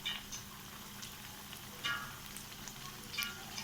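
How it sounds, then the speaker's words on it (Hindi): Aloo tikki shallow-frying in a pan, a gentle continuous sizzle with occasional crackling bursts, heard up close and fairly quiet, with no one talking. "इस तरीके से हम दूसरी साइड को भी फ्राई कर लेंगे"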